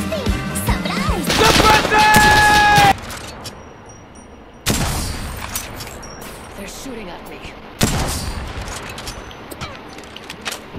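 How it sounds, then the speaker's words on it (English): Automatic gunfire in a shooting video game, loud bursts with sharp crashes in the opening seconds, then sparser shots and clinks under ongoing voice chat. "Shooting at him to give you covering fire."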